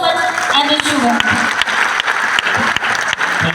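An audience bursts into loud, sustained applause in a hall, dense clapping filling the space while a voice carries faintly over it.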